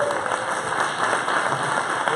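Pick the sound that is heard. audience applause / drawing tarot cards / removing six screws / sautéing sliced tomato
audience applause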